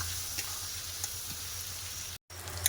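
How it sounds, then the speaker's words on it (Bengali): Spice masala for a poultry chicken curry sizzling and being stirred in a pan, a steady close frying hiss with a few soft scrapes, broken by one brief dropout near the end. "এবার মশলাটাকে খুব ভালোভাবে কষাই করবো"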